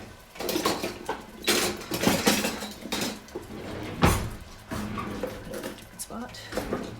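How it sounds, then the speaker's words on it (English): A utensil scrapes and clinks against a pan while loosening browned pieces of ginger beef and pork tenderloin, irregular metallic scratches and taps close by, with a person talking over them. "So just scraping up all the pieces"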